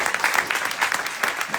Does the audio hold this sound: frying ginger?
no